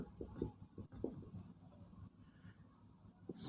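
A pen scratching across paper while a maths teacher works through a geometry problem, soft close strokes in a few short bursts, with quiet background murmur and no clear speech.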